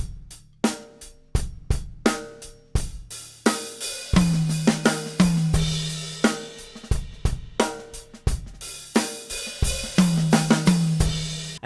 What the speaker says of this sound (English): often you'll hear a drummer starting to open the hi-hats leading into the fill to get a bit more anticipation going